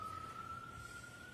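A faint, distant emergency-vehicle siren outside a courtroom during a trial, holding a thin steady tone over a low hum of room noise throughout.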